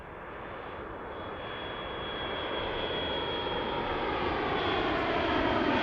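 An airplane rolls down the runway at Harrisburg's MDT airport. The jet engine roar is steady and broadband and swells gradually louder as it nears, with no voices over it.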